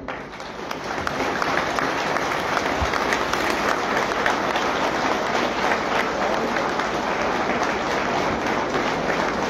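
Audience applause for the families of martyrs at a yagyashala inauguration ceremony, a dense, loud, steady wash of many hands clapping that continues evenly without a break.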